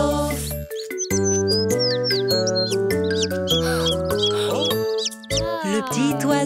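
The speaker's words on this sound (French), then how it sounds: "Cui, cui, il appela toute sa famille" Cartoon little bird chirping in high, quick tweets over a bright, bouncy children's song melody, with sliding whistle-like calls scattered throughout.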